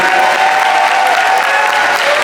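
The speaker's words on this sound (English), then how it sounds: "Give him one more big round of applause" A big crowd applauds Tetris player Blue Scuti at a classic Tetris semi-final gaming expo, with dense, steady clapping filling the whole moment and no pauses.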